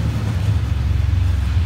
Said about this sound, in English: Here comes a loud piece of shit Dodge with fairing wheel.